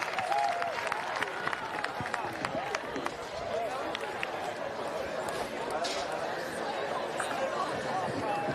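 An audience at the opening ceremony of a world ultimate frisbee event applauds a speaker with a dense, steady wash of clapping, mixed with crowd chatter and voices that continue throughout.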